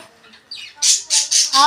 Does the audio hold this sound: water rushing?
no